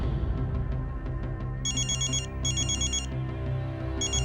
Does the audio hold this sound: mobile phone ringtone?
yes